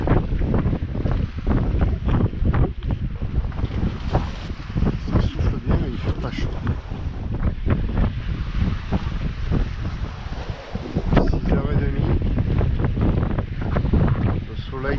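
Steady 15 to 20 knot wind roaring across a sailboat in the Strait of Bonifacio, buffeting the microphone, with water rushing and splashing against the hull throughout.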